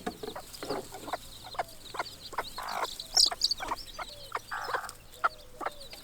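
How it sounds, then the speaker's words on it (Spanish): Repeated short high peeps from miniature chicks on a farm, scattered through the clip at close range, with brief louder chirps mixed in over a soft background hum. "Esos son los pollitos que han salido del cuarto de los piensos, los pollitos miniatura"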